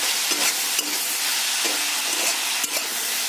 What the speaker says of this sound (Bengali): গাইস নুন হলুদ দেওয়া হয়ে গেছে এখন আমি নাড়াকাড়া করে ঢেকে দেবো